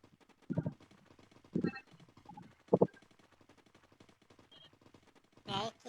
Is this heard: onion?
no